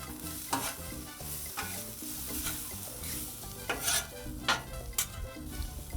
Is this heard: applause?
no